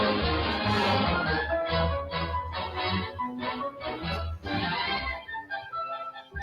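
Looney Tunes theme music plays from a recording, a bright brassy orchestral tune with punchy rhythmic accents, fairly loud and continuous for several seconds without talking.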